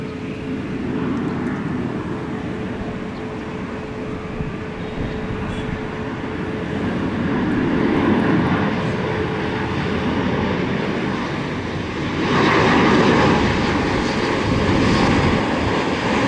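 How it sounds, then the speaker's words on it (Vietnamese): An Emirates Airbus A350-900 lands on runway 25R at Tan Son Nhat airport, a steady, loud jet roar that builds and stays strong throughout, with no voices. "Và bây giờ chiếc máy bay Airbus A350-900 của Emirates hạ cánh xuống đường băng 25 phải."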